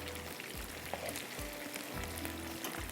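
Garlic fries in a pan, a steady dense sizzle heard close with occasional soft low thumps as it is stirred.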